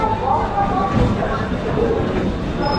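Magrahat local train with a 12-coach ICF 4000-series rake from Sonarpur car shed, a steady loud rumble of the carriages running throughout with crowd chatter underneath.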